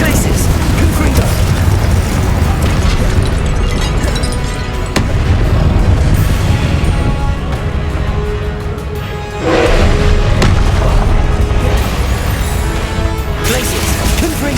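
Spell blasts crash and boom almost without pause in Hogwarts Legacy, a steady wall of loud magical impacts mixed with game noise, with a voice talking over them.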